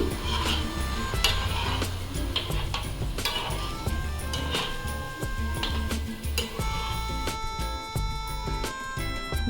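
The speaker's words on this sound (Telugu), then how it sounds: "ఇలా వేసుకున్నాక మీడియం ఫ్లేమ్ మీద రెండు వైపులా ఎర్రగా కలుపుతూ ఫ్రై చేసుకోవాలి" Bread gulab jamun frying in a pan over medium flame while being stirred, with clinks of the spoon against the pan and soft sizzling, close and fairly quiet.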